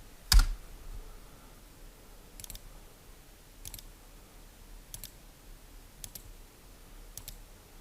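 A computer mouse clicks while a machine embroidery design is digitized: one louder click, then five crisp, evenly spaced clicks roughly a second apart in a quiet room.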